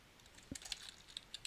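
Faint computer keyboard typing, a short run of soft, irregular key clicks close by in a quiet room, with no one talking.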